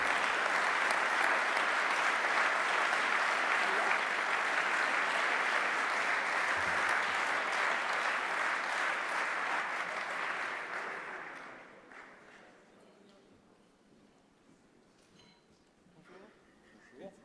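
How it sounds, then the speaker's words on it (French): Audience applauding the mayor at a cycling-cities award ceremony, sustained loud clapping from a large crowd for about eleven seconds that then fades quickly to quiet room tone with faint scattered sounds. "Je vous demande d'applaudir Monsieur le maire, Yves Michel"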